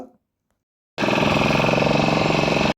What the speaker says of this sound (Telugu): ఈ బోట్ ఇంజిన్ అయితే మాత్రం మామూలుగా ఉండదు